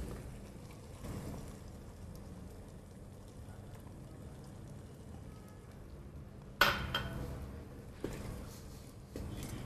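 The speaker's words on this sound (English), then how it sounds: "I'm going to add my dals." Dry lentils poured into a pot of onions and rice for kitchri, a soft rattling patter over low kitchen background, with a sharper clatter of utensil against the pot near the end.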